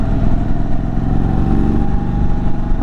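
A 2023 Indian Super Chief Limited motorcycle rumbles steadily through turns, its V-twin engine loud and close with a continuous throbbing low drone and slight rev variation, no talking.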